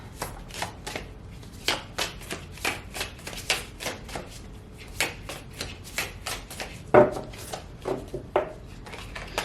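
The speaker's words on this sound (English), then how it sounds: "Let's pull some oracle cards." Oracle cards are shuffled by hand in a steady rhythm of crisp, close slaps and riffles, repeating roughly every half second with no talk.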